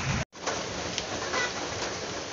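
Steady rain falls during the afternoon at a house construction site, a dense, even hiss that holds on without a break apart from one very short gap near the start.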